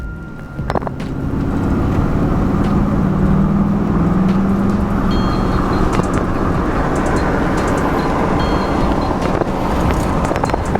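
A 2003 Chevrolet Silverado pickup with about 200K miles and a faulty transmission roars steadily near the microphone, shifting into 4th and 5th gear, with a low rumbling drone and some wind buffeting, rising as it pulls forward.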